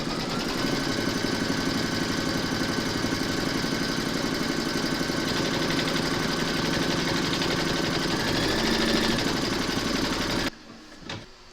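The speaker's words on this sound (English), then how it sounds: "Pop your hoop into your machine and stitch round number 3 to secure them." An embroidery sewing machine stitches round three of large appliqué letters, securing them to batting in the hoop. It gives a loud, steady, rapid mechanical hum and rattle for about ten seconds, then stops abruptly.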